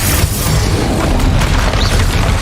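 A deep, booming Confringo spell blast from Hogwarts Legacy rumbles loud and close, a dense roar of explosive noise sustained throughout with no voices.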